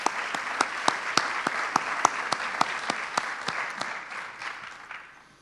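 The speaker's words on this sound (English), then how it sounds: "Let's give them a round of applause." An audience at an education symposium bursts into rhythmic group clapping, steady and fairly loud, with a few prominent close claps, before fading out at the end.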